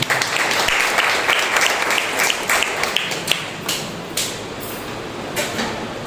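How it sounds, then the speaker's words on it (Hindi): A church congregation applauds loudly at a Sunday morning service, welcoming a visiting pastor and his family, with dense clapping and sharp individual claps standing out over the continuous crowd sound. "उनके लिए जोरदार तालियां हो जाए"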